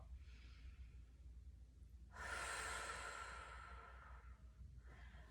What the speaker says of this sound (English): If I forcefully exhale,